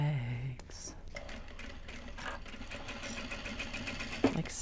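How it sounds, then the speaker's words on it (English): A sewing machine stitches bags made from Japanese fabric, its motor running in a steady, fairly quiet whir for several seconds, with small clicks and a brief louder knock near the end. "Sewing the bags."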